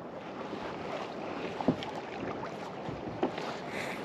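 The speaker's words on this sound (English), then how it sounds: "Freaking wind." High wind buffets a kayak while fishing in Oklahoma, a low, steady rushing rumble close to the microphone, with a couple of faint hollow knocks against the hull.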